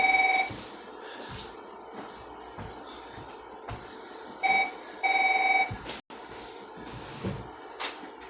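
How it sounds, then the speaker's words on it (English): A house phone rings indoors in several short electronic bursts with gaps between them, fairly clear above a quiet room with faint background noise. "Who the hell's calling my house phone?"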